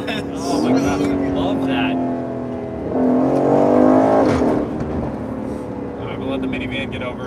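A 2021 Aston Martin Vantage Roadster engine revs in Sport Plus mode, loud and close, with rising and falling surges across the clip and a harder burst in the middle.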